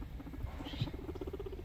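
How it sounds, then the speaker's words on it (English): A male guinea pig purrs softly and steadily while meeting another boar during bonding, a low continuous rumble with a faint rhythmic pulse, close and quiet, with no talking. "So you can hear the little purring"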